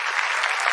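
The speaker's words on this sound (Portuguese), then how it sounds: "Obrigado pelos aplausos." Brief, dense applause from a television studio audience during a live music show, a steady wash of many clapping hands heard alone.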